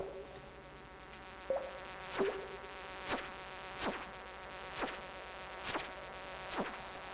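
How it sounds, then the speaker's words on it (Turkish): Fly buzzing in Stardew Valley, a series of about seven short, sharp buzzy bursts recurring at a regular rhythm of roughly one per second over quiet background music. "Haydi buyur sinek geliyor yine."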